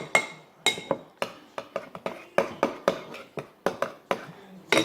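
Slime being mixed with shaving cream in a bowl: a steady run of sharp clinks and knocks as a utensil strikes the bowl, about three per second, close and alone.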